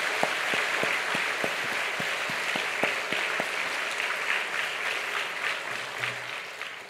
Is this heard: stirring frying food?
no